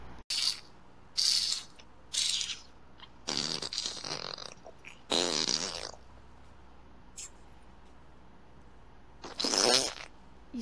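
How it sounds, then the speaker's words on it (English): Wet, squelchy fart-putty noises in the Fortnite video game come as about half a dozen short, sputtering bursts spaced by quiet gaps, moderately loud and alone. "You sound like you're playing with fart putty."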